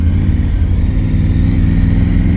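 A Triumph Tiger 900 GT motorcycle engine running under smooth throttle, a loud, continuous low throbbing drone that holds steady from start to finish.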